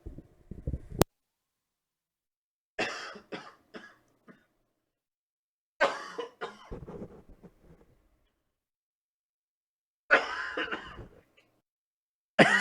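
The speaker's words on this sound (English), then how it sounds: "And hang on, I got a cough." Several bursts of coughing and throat clearing from a person on a podcast, close to the microphone, separated by silent gaps.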